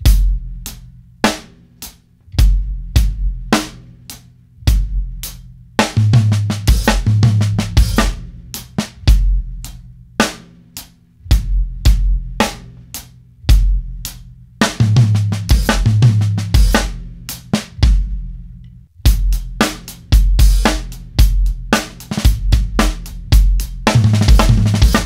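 Drum kit playing a 16th-note triplet fill, repeated several times with short pauses between, with sharp rapid hits rolling across drums and cymbal crashes, close and loud with no talking.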